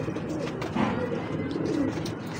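Golden pigeons give a soft, close coo with a gentle rising-and-falling warble, heard over faint low background noise.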